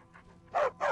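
War dog Vigilance in Skyrim gives two short, close barks after a faint yip, with the second and third louder and evenly spaced.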